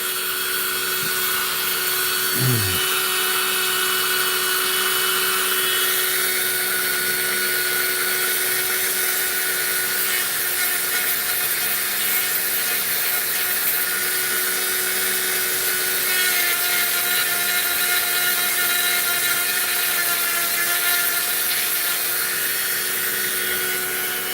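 A rotary tool fitted with a burr grinding while carving, making a continuous high whine with rasping grit that holds steady throughout. The sound is moderately close and there is no talking.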